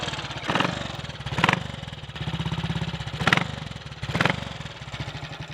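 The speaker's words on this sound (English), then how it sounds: "engine is probably running a little bit on the rich side" A 1958 Triumph Tiger Cub motorcycle engine, running slightly rich with the choke off, idles with a steady close-up putter and rises in several short revving blips.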